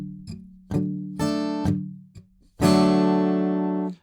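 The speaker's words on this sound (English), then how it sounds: "So on this very last strum here, I'm going across all the strings." An acoustic guitar strums a song's pre-chorus in separate chord hits with short gaps, ending in one long full strum across all strings that rings on, close and alone.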